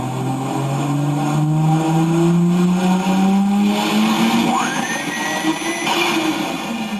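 A turbocharged street racing car running on race fuel roars loudly under boost, its engine pitch climbing steadily, then a sharp high whine and a rising whistle near the end.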